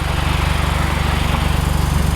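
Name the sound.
car engine with leaking exhaust flex pipe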